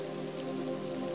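Steady rain falls in the fantasy role-playing game Neverwinter Nights, a dense, even patter of drops with no talk over it throughout.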